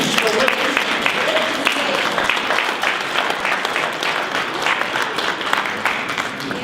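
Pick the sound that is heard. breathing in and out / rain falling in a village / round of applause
round of applause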